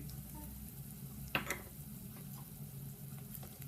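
Garlic, with ginger, green chillies and curry leaves, frying in hot oil for a Kerala fish curry, giving a soft, steady sizzle with one sharp crackle as something drops into the pan.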